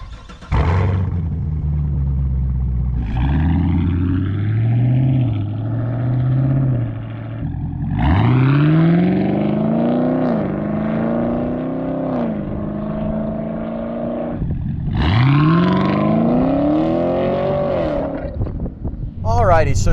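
The 6.2-liter naturally aspirated V8 of a 2016 Chevrolet Camaro SS revs up in three separate bursts, each roar climbing in pitch then dropping back to a deep idle rumble, loud and close.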